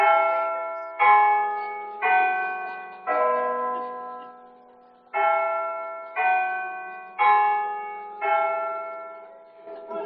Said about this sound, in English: the beautiful chimes